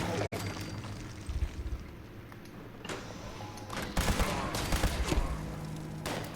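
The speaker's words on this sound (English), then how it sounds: "let's try our laser rifle" A laser rifle in the Fallout 76 video game fires in scattered rapid bursts, with sharp, loud zaps clustering toward the end against a busy game background.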